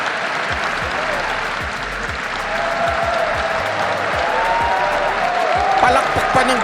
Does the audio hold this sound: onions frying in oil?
no